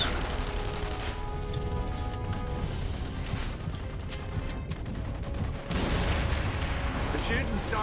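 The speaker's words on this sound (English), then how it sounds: "The shooting started." Gunfire fills the video game The Saboteur, a continuous dense crackle of shots and impacts with a sharp burst near the six-second mark, steady and moderately loud throughout.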